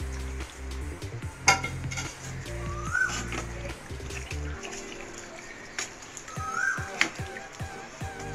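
Masala-coated chicken stirred in a pan for a home-cooked butter roast: a metal spoon scrapes and clinks against the pan in repeated strokes over a low frying sizzle, close and moderately loud, with no talking.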